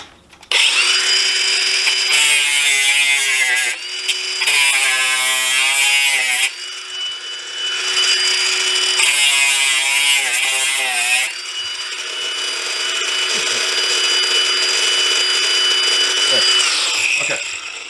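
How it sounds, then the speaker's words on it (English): A power tool grinds old wood off a single-pane double-hung window frame, a loud, close, high-pitched whine in repeated bursts as the tool bites into the wood, then a steady run before spinning down. "I'm just gonna grind it off."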